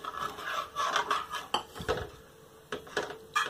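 A spoon scrapes and clinks against a pan while potato halwa is stirred with added milk, a series of close, quiet metallic rubs and taps at an irregular rhythm, with no speech.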